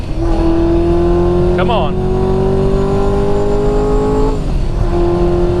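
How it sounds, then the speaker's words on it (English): A Hennessey Exorcist supercar revs hard with tires spinning, a loud sustained engine roar that holds steady before the pitch drops and rises again, close up, with someone briefly speaking over it. "I was spinning the tires pretty bad earlier. Let's see if I can get some stick."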